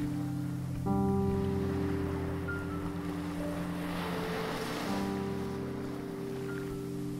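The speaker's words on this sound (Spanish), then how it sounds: "Y escuchas las olas." Sea waves wash in a steady, soft roar beneath sustained, calm background music, with no voices, forming a gentle relaxation soundscape.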